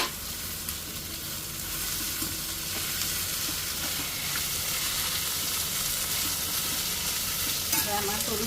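Onions and capsicum sautéing in a pan for homemade paneer chilli, a steady close sizzle and hiss of frying with occasional stirring scrapes, running continuously without speech.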